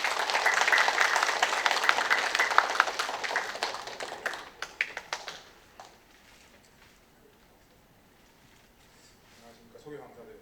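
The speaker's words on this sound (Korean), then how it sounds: "큰 박수로 맞아주시기 바라겠습니다." Lecture audience applauding to welcome an orthopedic surgeon to the podium, dense clapping for about five seconds that thins into a few scattered claps and fades to near silence, with faint sounds near the end.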